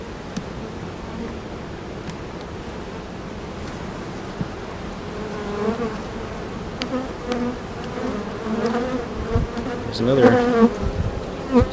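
Honeybees buzz steadily around an open hive during a queen and brood inspection, a dense close hum that swells louder toward the end, with a few brief handling clicks and no talk.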